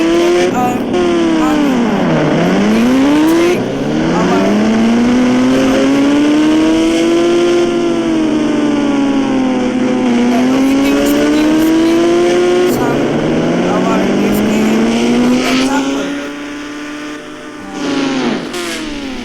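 Motorbike engine in the Indian Bike Simulator 3D mobile game, revving up and down in long rising and falling sweeps with gear-shift dips, loud and close, game audio alone.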